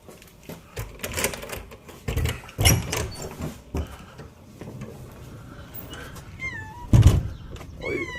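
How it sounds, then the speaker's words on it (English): A cat meows outdoors in a few short rising calls near the end, after a stretch of clattering and rustling background noise. "Hey, cat, what are you doing out here? Get out of there."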